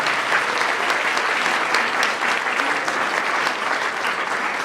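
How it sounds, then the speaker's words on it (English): Steady, sustained applause from a large audience at a congressional honoring ceremony for the longest-serving woman in U.S. Congress history, dense clapping filling the whole stretch at an even level. "I'm going to give you a round of applause."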